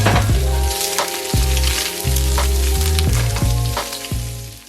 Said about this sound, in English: And here I'm going in with my Italian sausage.